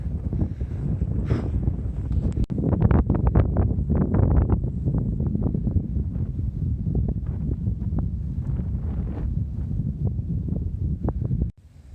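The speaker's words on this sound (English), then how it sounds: "there's a nice cool, gentle breeze blowing in from the north, blowing in off the coast." A gentle breeze blows off the coast across Moreeb Dune in the United Arab Emirates desert. It buffets the microphone with a loud, steady rumbling wind noise, strongest early on, that cuts off abruptly at the end.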